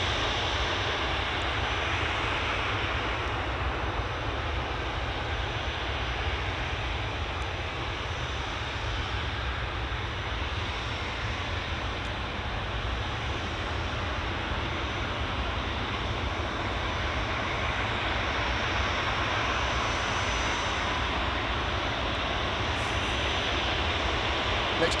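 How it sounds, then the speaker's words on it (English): An Airbus A320 departing for Paris Charles de Gaulle gives a steady, broad jet engine roar at a distance, holding constant throughout with no talk. "Next departure is this A320 off to Paris."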